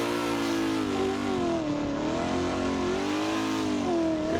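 A drift car engine revs hard during a drift competition lead run, a loud sustained droning roar whose pitch rises and falls as the throttle is worked, heard alone without talk.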